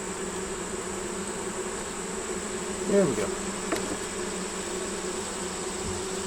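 Bees swarm and buzz steadily around an open hive as frames are handled, a continuous close hum with a brief louder pass near the middle and one short spoken remark.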